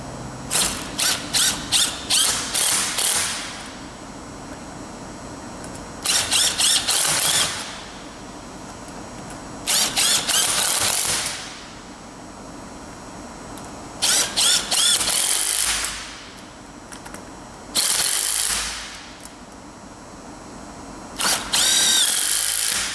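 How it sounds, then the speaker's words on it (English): A ratcheting wrench tightens the screws of a CAI hinged Plategrip belt fastener in six loud bursts of rapid clicking, each lasting one to two seconds, separated by pauses. "insert our wrench. We're going to tighten the one in the middle first"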